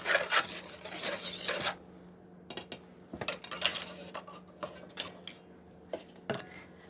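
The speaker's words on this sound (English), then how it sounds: "Now I'm going to take a whisk and whisk the flour, baking soda, and salt, cornmeal, and whisk these together." Flour, baking soda, salt and cornmeal get whisked in a bowl for Appalachian corn bread, giving quiet bursts of metal whisk scraping and clinking against the bowl in uneven strokes with short pauses between.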